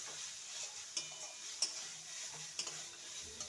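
Dhaba-style potato curry masala with crushed kasuri methi gets stirred in a pan, giving a faint background sizzle broken by a few light scraping knocks of the spoon, with no speech.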